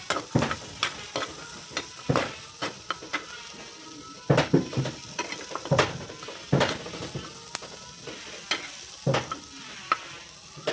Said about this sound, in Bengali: উল্টে পাল্টে একটু ভাজা নিই, তেল ছাড়াই